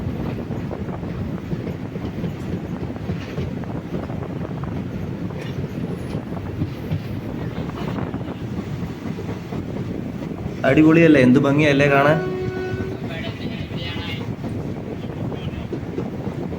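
A KSR Bengaluru InterCity SF Express rolls slowly through a ghat section, its steady rumble and wind noise constant and close, with a brief spoken exclamation midway.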